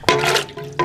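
Tap water pours steadily into a pot for turkey soup with carrots, celery and potatoes, a loud broadband rush that runs nearly continuously, dips briefly, then surges again.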